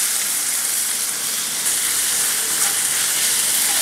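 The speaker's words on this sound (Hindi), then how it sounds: "तो अभी इसमें हम कटे हुए टमाटर मिलाएंगे" Two medium chopped tomatoes hit the hot pan for kadai paneer and give a loud, steady, broadband sizzle that holds evenly throughout, with no talking.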